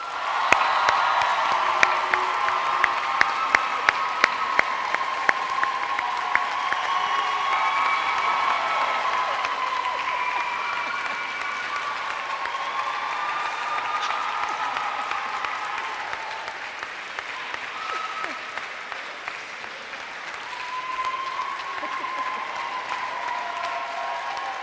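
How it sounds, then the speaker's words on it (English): Graduation ceremony audience at Rochester Cathedral giving a long, loud round of applause, dense sustained clapping with some cheering and whoops echoing in the large stone space, easing slightly before swelling again. "Can we give them a big round of applause?"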